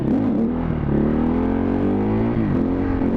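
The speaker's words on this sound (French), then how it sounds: "Donc je démarre mon wheeling." Motorcycle accelerating hard to pull a wheelie, a loud steady engine note climbing in pitch with a brief dip near the end, close and continuous with no talk.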